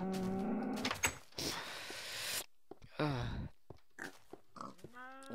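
Cows in the Minecraft video game give several short synthetic moos and grunts, close and fairly loud, separated by brief quiet gaps.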